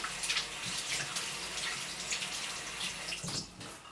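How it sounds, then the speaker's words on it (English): Hands wash under a running bathroom tap, a steady close splash and hiss of water that continues throughout, quieter near the end, with no speech. "washing my hands."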